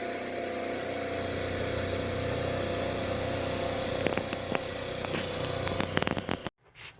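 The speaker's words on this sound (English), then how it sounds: "Iron Mike driving a new Polaris for the first time." A new Polaris utility vehicle's engine runs at a steady idle-like drone, close and continuous, with some clicks and knocks near the end before it cuts off abruptly.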